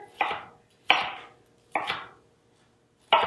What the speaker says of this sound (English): And we do the same thing to the other half. Nice long strips of pepper.